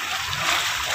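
Floodwater during typhoon Carina in a Marilao, Bulacan housing area: a continuous rushing, splashing wash of water, close and fairly loud for about a second.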